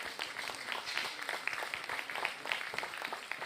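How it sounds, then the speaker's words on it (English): An arena audience at the San Angelo Stock Show junior market steer event applauds the kids along the side rail, a continuous patter of many hands clapping, moderately distant and even throughout. "Let's give these kids along the side rail a round of applause."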